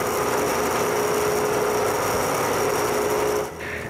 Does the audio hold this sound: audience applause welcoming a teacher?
no